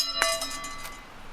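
A bell rings out in a small, tucked-away garden, with one bright metallic strike followed by a shimmering ringing decay that fades over about a second.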